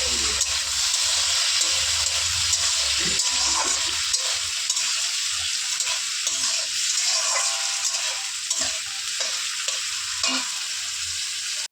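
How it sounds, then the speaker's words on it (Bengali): Chopped onion and tomato frying in a pan for chirar polau, a loud continuous sizzle with bursts of stirring scraping throughout, close and steady with no voices. "এবার দিচ্ছি পেঁয়াজ আর টমেটো কুচি।"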